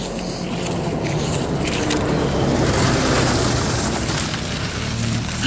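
Rescue sled vehicle passing along a ski trail, a steady broadband engine and track roar filling the scene without a break, loud and continuous with wind-like hiss.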